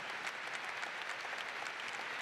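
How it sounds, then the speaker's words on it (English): A large crowd gives dense, steady applause at a fall university commencement ceremony, a continuous wash of clapping at even loudness from start to finish. "A round of applause for the United States of America"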